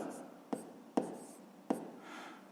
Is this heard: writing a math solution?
yes